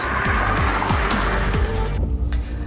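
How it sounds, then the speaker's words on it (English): A 2020 Volkswagen Vento TSI engine roars and revs hard up to 6000 rpm, pitch sweeping up repeatedly with quick gear changes, loud and close, then cuts off abruptly. "The engine revs cleanly till 6000 rpm and keeps building speed without making much noise."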